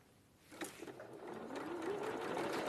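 A sewing machine stitches pairs of fabric patches together, its motor starting after a brief quiet and then running steadily and fairly close, with a rising whir as stitching continues.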